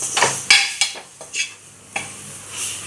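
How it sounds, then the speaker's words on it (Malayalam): Tomatoes and spices are stirred in a hot pan, a spoon scraping and clinking in several uneven strokes over a soft, steady sizzle, close and clear with no talking. "എന്നിട്ട് ജസ്റ്റ് ഒന്ന് ഇളക്കാം."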